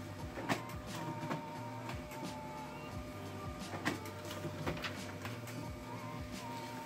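A HIPER P-1120 laser printer runs a print job up close, a steady mechanical whirr and hum broken by repeated clicks and clunks of paper feeding.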